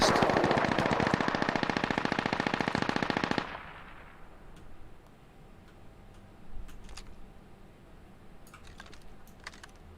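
Sustained automatic gunfire rattles in rapid bursts during a firefight in the video game Squad, loud and dense for about three seconds, then stops abruptly, leaving a quieter background with faint scattered distant shots and clicks.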